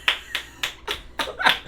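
Hands clapping in cheer for the winner of a hot dog eating contest, a sparse run of about six sharp, close claps at an uneven pace, no voices.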